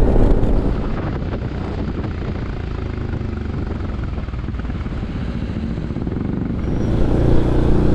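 Strong wind blows near the sea at Cha-am beach, heard as a loud continuous roar buffeting the microphone of a moving Honda ADV350 scooter, with no voices.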